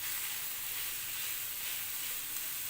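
Chopped onion fries in a pan for kaleji masala, a faint, even sizzling hiss that holds steady throughout with no talk.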